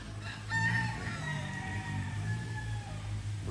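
A Boston Millionaire gamefowl rooster crows in one long, loud, drawn-out call close by, with farmyard noise underneath and no talking.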